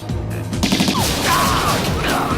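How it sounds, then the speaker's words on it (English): Gunfire in an action movie scene as bad guys attack, a dense burst of shots and crashes running through the whole stretch at close range, with faint voices mixed in. "Okay, those bullets would have killed him."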